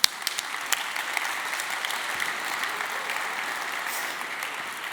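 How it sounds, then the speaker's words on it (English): Steady applause from a conference keynote audience, many hands clapping continuously at a moderate, even level throughout. "So I applaud to you."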